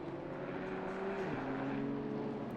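A Neon Falcon touring car races at Bathurst, its engine droning steadily at a distance, with pitch shifting as the driver struggles to brake, under a continuous mechanical roar.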